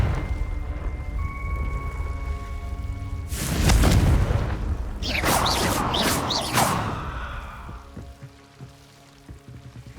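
A Confringo spell blast from Hogwarts Legacy erupts in a loud, booming roar with a crackling, rain-like wash that trails off over several seconds, with no talk over it.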